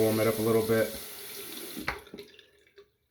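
Hot tap water runs into a sink to warm a vintage Gillette Toggle safety razor, a steady splashing stream that stops partway, leaving a few faint drips; someone talks over the opening.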